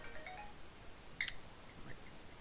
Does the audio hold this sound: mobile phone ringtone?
yes